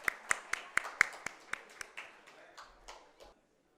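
A smattering of hand claps, a dozen or so sharp claps at a steady pace that thin out and fade, fairly faint and slightly distant.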